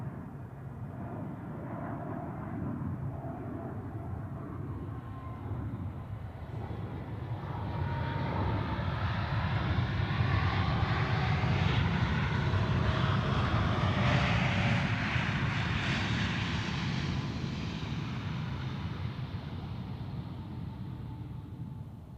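An Air Baltic airliner flying for Swiss lands at Zurich Airport, its jet engine roar swelling from a distant rumble to a loud, broad rush at mid-clip, then easing slightly as it passes.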